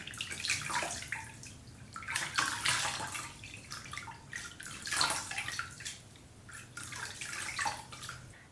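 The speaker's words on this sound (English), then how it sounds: "I'm going to go ahead and rinse it, and we'll finish cleansing the eyes." Water splashes and runs while eyelashes and eyes are rinsed during a cleansing routine, a close, uneven wash of spattering and dripping that swells and eases in waves.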